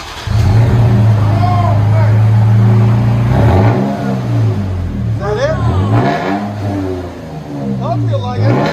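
Toyota Tacoma TRD 4x4 with a 3.5-liter V6, stick shift and Black Widow Widowmaker exhaust, revs deeply in several rising and falling surges over a steady rumble, with people talking over it.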